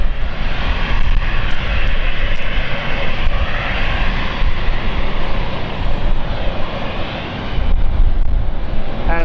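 Jet airliner on the Frankfurt service taxiing at London City airport, its engines giving a loud, steady roar and whine close by with no voices.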